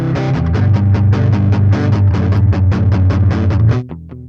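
Distorted Telecaster electric guitar driven through FabFilter Saturn saturation, playing a steady rhythmic riff of repeated chugging chords for about four seconds before the notes break off, loud and close with no voices.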